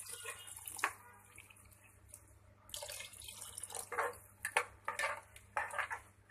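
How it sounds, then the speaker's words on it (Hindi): Water poured from a vessel into a pressure cooker holding rice, soya and chana for pulao in a home kitchen, arriving in several short splashing bursts, quiet and close, with faint clinks of metal cookware between pours. "अब मैं पानी डाल रही हूँ, क्योंकि हमने कुकर में रखे हुए हैं, इसलिए पानी हम कुकर के हिसाब से रखेंगे"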